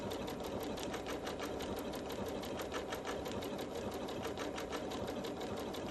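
A Janome MemoryCraft 7700 sewing machine runs a rounded applique stitch, giving a steady rapid needle rattle with a regular pulsing rhythm, close up and uninterrupted, no voices.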